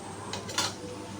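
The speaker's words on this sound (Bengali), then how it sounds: "আমি একটা সুন্নি নিছি, ওই আরেকটা সুন্নি নিছে, দুজনে দুই সুন্নি দিয়া আলু ভাজিচ্ছি" A spatula scrapes and clinks against a pan while potatoes fry, two short metallic strokes close by, the second louder, over a low background hum.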